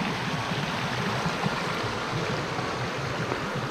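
Canal water flows steadily past bean fields in a hilly Pahadi village, a continuous broad rushing wash heard close and fairly loud with no talk over it.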